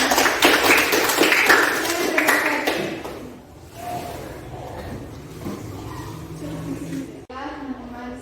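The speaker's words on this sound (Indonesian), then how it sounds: "tepuk tangan dulu bagi kita." A group of people clapping hands together in a guidance-counselling group session, a dense burst of claps in the opening seconds that fades into softer room noise with some talking afterward.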